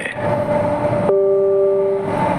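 A Delhi Metro train runs with a steady rumbling hum and a bright electric motor whine whose pitch steps down partway through, close and continuous with no voices.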